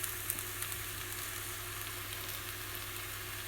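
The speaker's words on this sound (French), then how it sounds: "Et on va faire revenir tout ça tranquillement. Une dernière coloration dans le beurre." Carrots, cabbage and onions sautéing in butter in a pan give off a steady, soft sizzle and frying hiss, with faint clicks of stirring, continuous and close, with no talking.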